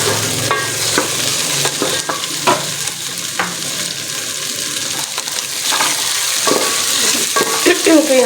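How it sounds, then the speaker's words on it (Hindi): Okra (bhindi) frying in a pan makes a loud, continuous sizzle, with sporadic spatula clinks and stirring scrapes on top. "ये भिंडियाँ जो है फ्राई हुई है"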